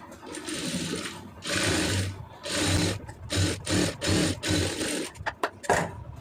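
Sewing machine stitching blouse sleeve fabric in repeated short bursts of whirring, each a second or so long, with brief pauses and a few clicks toward the end.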